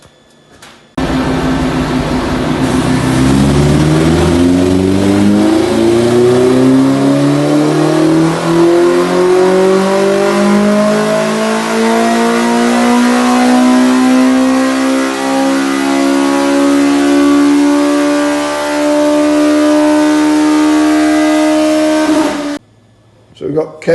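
A Suzuki GSX 1400 motorcycle engine on a dyno for a baseline run revs in one long, loud sweep, its tone climbing steadily for about twenty seconds before cutting off abruptly.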